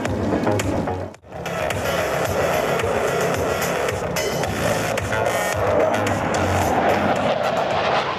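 Two Mirage 2000 jets pass from left to right over a French air show at Istres, a broad continuous roar that stays loud throughout with a brief dip early on.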